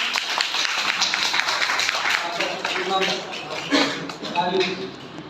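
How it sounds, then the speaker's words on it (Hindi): Applause at a school ceremony honouring CBSE Class X 2022 results toppers, with a crowd clapping steadily and densely over several seconds while a voice talks over it. "जोरदार तालियों के साथ"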